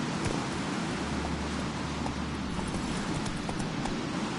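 Roach, the horse in the video game The Witcher 3, gallops with a steady, continuous drumming of hoofbeats on the ground, close and fairly loud, over a soft rustling ambience.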